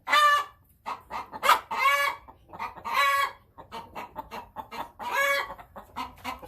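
A house rooster on a farm clucks and crows in repeated loud bursts close by, with short pauses between calls and no talking over them.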